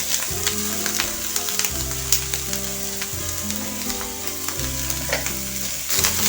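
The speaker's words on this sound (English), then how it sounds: "And now at this point, we're going to add our onions." Onions added to meat in a pan sizzle and fry steadily for samosa filling, with stirring scrapes and clinks over the continuous close hiss, no voices.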